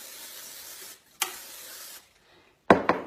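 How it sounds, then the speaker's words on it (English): Cooking spray hisses onto a George Foreman grill in bursts: a steady spray for about a second, a brief gap, another longer spray, then a couple of sharp clattering knocks at the end. "we're going to go ahead and spray this bad boy down"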